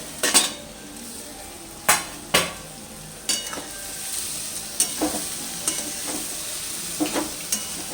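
Bottle gourd and prawns cook in a pan, stirred with a metal utensil that knocks and scrapes sharply at irregular intervals over a low, steady sizzle.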